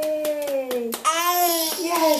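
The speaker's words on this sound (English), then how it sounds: "clap your hands" A young child claps along to "If You're Happy and You Know It", giving several soft, evenly spaced claps under a melodic voice that carries through the whole clip.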